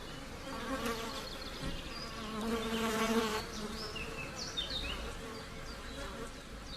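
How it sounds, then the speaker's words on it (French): Flies buzzing around an eaglet and an owl at a nest, several insects whining close by and drifting past, the drone swelling and fading in loudness over a quiet outdoor background. "L'aiglon est harcelé par les mouches qui perturbent aussi le sommeil de la chouette."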